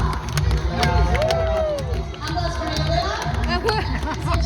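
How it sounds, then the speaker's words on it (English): A crowd cheers and claps for the young musician Lila, with excited shouts, chatter and loud voices mixed into the lively noise. "Great applause for you!"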